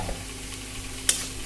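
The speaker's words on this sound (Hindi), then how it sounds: "इसके बाद हम लोग गाजर डाल देते हैं, इसको भी अच्छी तरह से चला लेते हैं" Carrots being stirred in a hot pan while making egg or chicken rolls: a soft, steady sizzle with a few sharp scraping clicks of the spoon near the end, close and fairly quiet, no talking.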